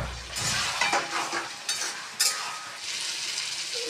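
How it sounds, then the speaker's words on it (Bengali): Spice paste being sautéed with potatoes and pointed gourd in a pan, a steady sizzle broken by a few sharp scraping stirs, close and moderately quiet. "ভালো করে কষিয়ে নিয়েছি আমি,"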